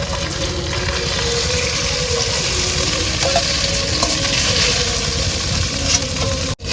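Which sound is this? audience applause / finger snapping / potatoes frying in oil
potatoes frying in oil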